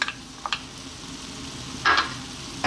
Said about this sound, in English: In goes our sliced onion